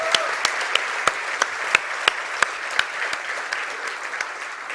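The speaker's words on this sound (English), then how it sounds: "So let's give them one big round of applause also." An audience claps for a demo team at a live tech conference, a dense, even round of applause with a few sharper individual claps standing out, steady and close throughout.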